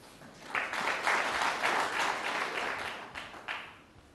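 Crowd applause breaks out at a snooker final, a dense, fairly soft wash of clapping that swells, holds for a few seconds and then tapers off, with no voices over it.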